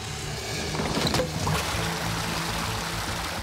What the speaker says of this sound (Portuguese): Se tirarmos algumas tábuas, a água começa a correr outra vez